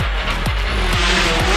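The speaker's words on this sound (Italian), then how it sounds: "ora si sale di marce, sente il motore che sale perché abbiamo ora un bel motore per il turbo" A Peugeot 208 T16 turbo rally car engine revs hard through the gears, each climb in pitch cut by a quick shift, loud and close.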